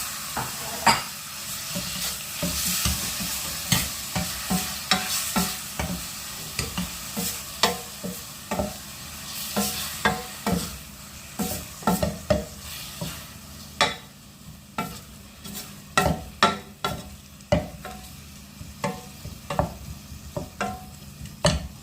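Ground beef sizzling in a hot pan for a Filipino-style beef giniling, with a steady frying hiss under repeated sharp scrapes and knocks of stirring throughout, close and fairly loud, no talking.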